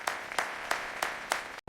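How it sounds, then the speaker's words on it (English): Restaurant customers clapping their hands in a slow, sparse rhythm, about five separate claps spaced evenly apart, moderately loud and close, with no voices, ending abruptly. "The amazed restaurant customers slowly began to clap their hands"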